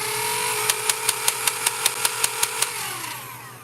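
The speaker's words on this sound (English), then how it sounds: "this is a Dart Zone Pro or Dart Zone Venom Pro" A Dart Zone Venom Pro foam dart blaster fires a rapid burst of about ten sharp, evenly spaced shots over a steady motor whir that winds down afterward, heard close and loud.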